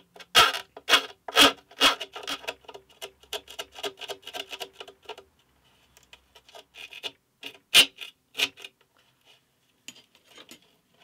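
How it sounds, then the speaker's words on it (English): A hand file working metal, heard as a rhythmic run of sharp, loud rasping strokes up close, slowing and thinning into lighter, sparser strokes with brief pauses. "This files away incredibly quickly"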